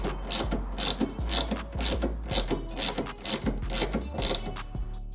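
A socket wrench ratchets in quick, evenly repeated clicking bursts while tightening a coilover nut on a Mk1 Golf, a close, crisp mechanical rhythm of about a dozen strokes.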